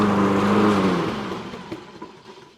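A self-propelled lawn mower engine runs steadily and loud at first, then its pitch sags as it labours under strain, with the drone tapering off and a few clunks toward the end.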